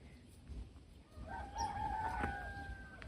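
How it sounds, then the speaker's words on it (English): Rooster crowing outdoors among old trees near a 1940s church, one drawn-out crow rising over quiet background noise, moderately distant, with no talk. "you can hear the roosters"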